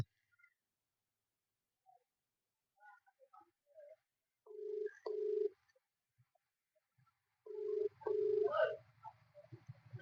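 Phone call ringing out to a Motorola service center, two pairs of ringback tones separated by a pause, heard close and clear over near silence with faint clicks.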